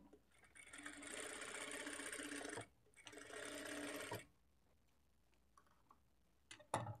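A sewing machine runs in two steady bursts of close, fast stitching along piping on fabric from one corner to the next, with a short pause between them and a few faint clicks afterward.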